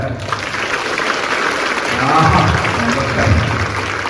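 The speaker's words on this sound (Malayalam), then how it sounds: "ഒന്ന് കയ്യടിക്കും നോക്കാൻ" Sustained applause from an audience at a school reading week celebration, a dense wash of many hands clapping together that swells slightly toward the middle and carries on steadily.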